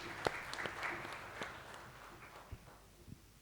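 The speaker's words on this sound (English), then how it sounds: "A round of applause to you first." A conference audience gives brief, scattered applause that fades to a few isolated claps, fairly faint in a large hall.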